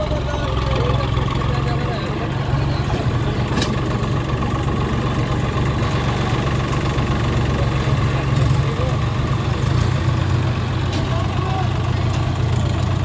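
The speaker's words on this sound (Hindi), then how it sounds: "ट्रैक्टर जो है घुमाए जा रहे हैं जिससे कि किसी के दिमाग में ये ना रहे कि इधर ढाल है उधर ऊंचा है ऐसा कुछ।" A Farmtrac 655 and a Swaraj tractor idling while being turned around at a rural tractor tug-of-war contest, a steady low diesel rumble throughout, with crowd noise over the top.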